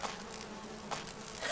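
Bees buzz continuously in the PC game Resident Evil HD Remaster, a steady insect drone with slight swells, fairly loud and close, with no talking.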